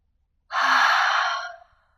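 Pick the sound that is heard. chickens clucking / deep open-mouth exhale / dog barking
deep open-mouth exhale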